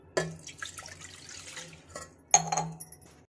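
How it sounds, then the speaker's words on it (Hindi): One glass of water splashes into a frying pan on a stove in two brief pours, each starting with a sharp splash and trailing into trickles and drips, close and alone. "और ये रख दिया मैंने इसमें पानी"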